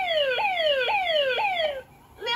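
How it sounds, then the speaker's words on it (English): The crash alarm of a Tiger 2XL robot toy sounds as a loud electronic siren, repeatedly sweeping downward in three even cycles, then a brief gap and the start of a new rising sweep. "my crash alarm just came on."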